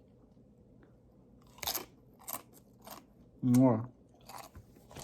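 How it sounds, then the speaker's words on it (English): Someone bites and chews a county jail food spread in a few sharp, close crunches separated by pauses, with one louder burst of munching and a brief spoken word. "I'm gonna go ahead and start eating this spread I got."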